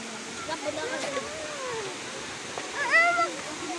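A waterfall roars as a constant broad rush of falling water, with brief tonal voice-like cries rising over it near the end.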